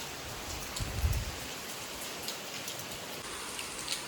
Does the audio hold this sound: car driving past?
no